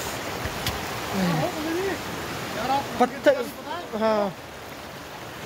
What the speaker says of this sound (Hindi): ये सामने वाटरफॉल है